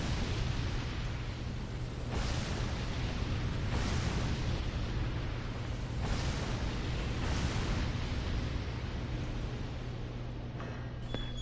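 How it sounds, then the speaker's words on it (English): A loud explosion in Dark Souls 2, linked to the Forbidden Sun spell, heard as a sustained blast of rumbling noise with several heavy bursts swelling every couple of seconds. "Man, that explosion's loud."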